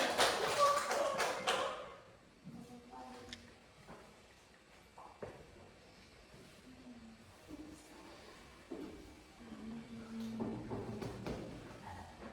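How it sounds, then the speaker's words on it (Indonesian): A classroom gives a short burst of applause, loud and dense for about two seconds, then fades into quieter room noise with taps and a teacher speaking. "Beri aplaus dulu untuk deklarasi ya"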